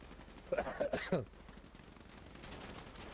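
Gunfire rings out in a GTA roleplay turf fight: a short burst of rapid shots lasts under a second, then the sound falls back to a quieter game background.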